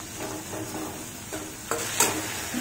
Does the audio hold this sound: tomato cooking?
yes